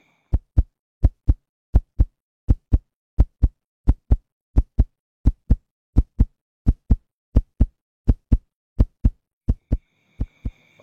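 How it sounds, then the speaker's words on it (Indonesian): A heartbeat sound effect thumps in steady paired lub-dub beats, loud and close, repeating evenly about twenty times with silence between pulses and a faint tone creeping in near the end. "Mode detak jantung aktif."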